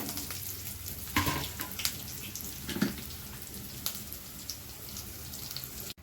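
Seasoning with a little salt fries in a pan for mango pulihora, a soft, continuous sizzle and crackle with a few sharper pops and spoon scrapes, heard alone without talk.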